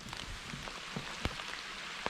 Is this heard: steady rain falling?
yes